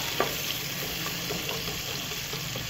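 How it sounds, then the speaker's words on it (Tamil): Onions sautéing in a pan for paneer pulao, a steady close sizzle and frying crackle with a faint stir or two near the start, going on without talk. "இப்போ அந்த வெங்காயம் வந்து நல்லா வதங்கட்டும்"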